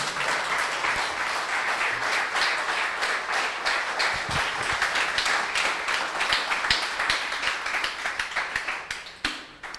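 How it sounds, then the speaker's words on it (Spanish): Church congregation applauding during a sermon, a dense run of many hands clapping briskly with some sharp individual claps, holding steady for several seconds before thinning out at the end. "Dele un aplauso al Señor si lo está entendiendo."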